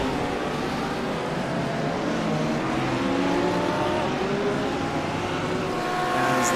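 Audi and Porsche GT3 race cars lapping Laguna Seca, a steady loud engine roar with several overlapping engines whose pitch sweeps up and down through gear changes, sustained throughout without talk.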